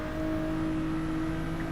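Race car engines in Gran Turismo 7 at Road Atlanta whine steadily at a fairly faint level, a continuous hum with no talk over it.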